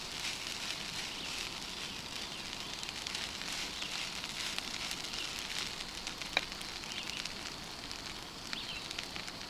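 A camp stove fire burning hard on fuel while food browns for brunch outdoors at Pine Lake, giving a steady, even hiss and faint crackle throughout with no talk over it.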